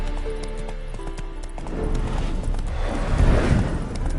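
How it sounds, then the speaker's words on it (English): Roach, a spooked horse in a Witcher game, whinnies loudly and nervously over steady hoof clip-clops, the hoofbeats and neighing swelling closer and louder toward the end. "Spooking my horse. Roach doesn't like ghosts."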